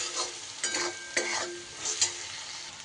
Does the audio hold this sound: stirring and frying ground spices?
yes